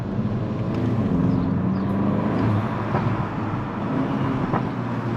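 A Volkswagen Golf 8 GTI Clubsport's 300-horsepower engine and exhaust rumble steadily, with faint crackles and pops from the exhaust over a continuous mid-level drone.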